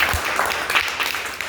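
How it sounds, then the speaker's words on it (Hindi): Schoolchildren in a primary school classroom clap together, a dense, close burst of many hands, briefly mixed with a little voice. "बैठ जाओ, ताली बजाओ।"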